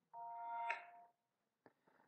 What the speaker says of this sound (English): my phone's going nuts, I should have put it in silent